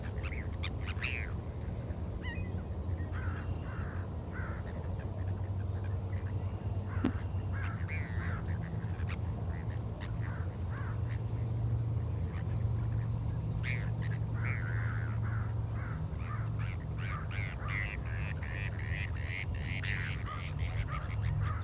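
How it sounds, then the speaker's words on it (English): A bird gives an odd, duck-like call that is not a quack, in short repeated bursts among other bird sounds, fairly faint outdoors over a low steady hum, with no talking. "Sort of a weird sound, almost a duck-like, not a quack"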